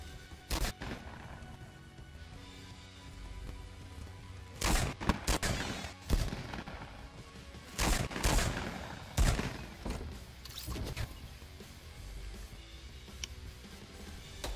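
Repeated gunshots from a battle royale video game, sharp bursts scattered irregularly over a steady low background, some in quick clusters, loud and close.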